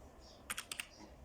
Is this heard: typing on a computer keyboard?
yes